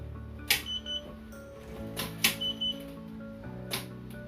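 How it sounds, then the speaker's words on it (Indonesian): A solenoid door lock on an RFID-controlled locker, run by a NodeMCU ESP8266, snaps open with sharp mechanical clacks, three separate hits spaced about one and a half seconds apart, some joined by brief electronic chirps. "maka akan terbuka untuk solenoid dari door lock ini"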